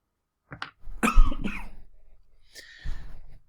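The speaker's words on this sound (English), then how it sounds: "I'm just about to cough" A few short, harsh coughs close by, in quick bursts with brief pauses between them.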